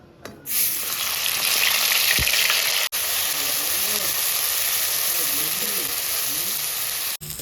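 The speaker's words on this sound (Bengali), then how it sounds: "আমার তেল গরম হয়ে গেছে আমি দেবো পেঁয়াজ বাটা" Onion paste sizzling in hot mustard oil, a loud, steady frying hiss that holds without a break for several seconds, with a brief stir or clank near the start and a low voice murmuring faintly underneath.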